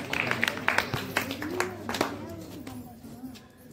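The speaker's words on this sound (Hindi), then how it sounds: "जोरदार तालियां।" An audience at a school gathering gives scattered applause, sharp individual claps popping out over background talk and murmuring, thinning toward the end.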